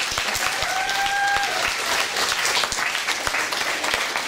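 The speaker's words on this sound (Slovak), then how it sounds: "takže poprosím veľký potlesk" Loud, sustained applause from a Mother's Day celebration audience, dense clapping filling the whole stretch without a break, with a brief whistle-like tone near the start.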